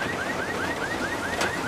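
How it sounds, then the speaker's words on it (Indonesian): A car alarm whoops in a steady repeating rising-pitch cycle, about six quick sweeps, moderately loud against a rumbling background with no talk. "Mallory menyalakan alarm mobil Christian"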